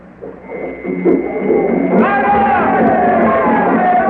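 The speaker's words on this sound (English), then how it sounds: "The war drums have begun now, and the crowd has burst into song." A crowd bursts into the French revolutionary song Ça ira in a 1949 radio drama about Toussaint Louverture liberating Haiti, with war drums said to accompany it. A low rising murmur swells into loud, sustained massed singing.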